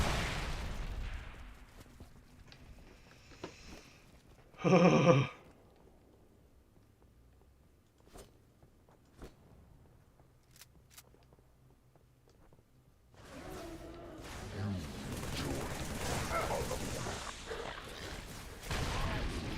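Grenade explosions and gunfire in a video game: a sharp, loud blast bursts out early, scattered pops and shots follow, then a dense, sustained stretch of rattling gunfire and booms closes the clip.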